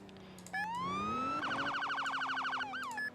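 Police siren from the ER:LC video game cycling in auto mode: a rising wail sweeps up, then rapid yelping warbles, ending with a short rise and fall; loud and close, no talk.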